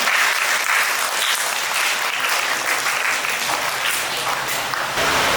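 An audience at an annual-day stage function claps continuously to welcome dignitaries onto the stage, a dense, even burst of applause lasting several seconds.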